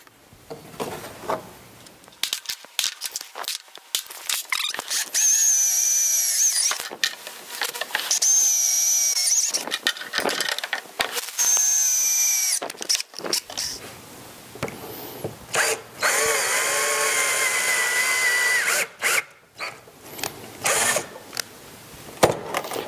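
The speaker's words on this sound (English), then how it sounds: "Now you're going to drill a hole in here" A power drill whirs in several bursts, revving up and down as it bites into material, with clicks and handling noises between runs.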